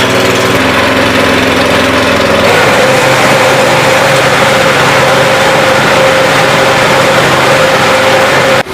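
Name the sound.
Honda engine of reaper machine running after rope start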